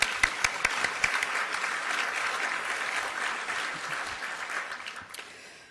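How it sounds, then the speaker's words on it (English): Audience applause fills an economic summit hall, a dense sustained wash of many hands with a few sharp claps at the start, fading out toward the end. "Let's give them a round of applause."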